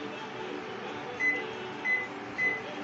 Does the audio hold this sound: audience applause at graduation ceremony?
no